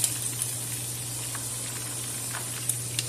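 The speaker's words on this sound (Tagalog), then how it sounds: "Pinirito ko muna ang manok" Soft, steady sizzling of chicken frying in hot oil for biryani, with a low constant hum beneath and a few faint pops.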